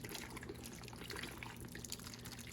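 Beer poured into a pan for gluten-free brats, a steady splashing, gurgling stream of liquid close by with no talk.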